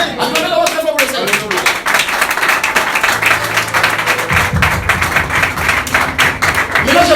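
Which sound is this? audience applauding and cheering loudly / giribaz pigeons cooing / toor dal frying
audience applauding and cheering loudly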